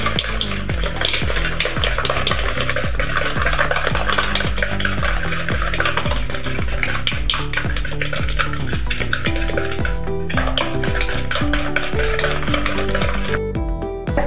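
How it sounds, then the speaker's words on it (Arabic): Sugar, eggs and oil for cake batter are mixed with fast, rhythmic whisking strokes against a bowl. The sound is close, loud and continuous, with no voices. "غادي نخلط السنيده مع البيض."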